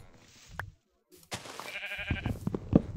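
Sheep bleating in the video game Minecraft, a few short wavering bleats amid scattered game noises and shuffling, moderately close.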